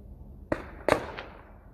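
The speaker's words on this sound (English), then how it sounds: "followed by the sound of gunfire" Two sharp gunshots about half a second apart, followed by a fainter third, echoing briefly in an otherwise quiet outdoor space during a police standoff.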